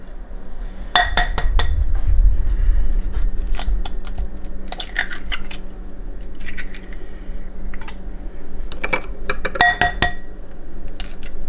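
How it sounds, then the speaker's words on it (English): Three eggs are cracked into a bowl on a kitchen counter: sharp, scattered taps and clinks against the rim come in small clusters, close up, with quiet stretches between and no talking. "I'm going to crack my 3 eggs."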